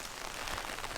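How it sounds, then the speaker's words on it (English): Rain falls steadily outdoors on a tomato garden, a dense even hiss of drops with no pauses and no voices across one second. "maybe the rain will slow down here in a little while"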